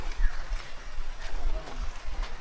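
Horses pick their way along a rough, difficult path by a river, their hooves thudding irregularly in soft clops at close range, with outdoor ambience and occasional voices nearby.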